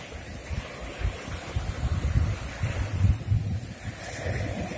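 Stormy surf pounds a sandy beach on the Black Sea coast at Karolino-Bugaz in a force-3 storm, low rolling wave crashes swelling and receding under constant gusting wind buffeting the microphone, no voices.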